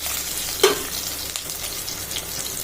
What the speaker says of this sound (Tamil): பூண்டு ஒரு 5-6 பல் பூண்டு, அதுவும் போட்டுடலாம். அதை நல்லா வதக்கி விட்டுக்கிடலாம்.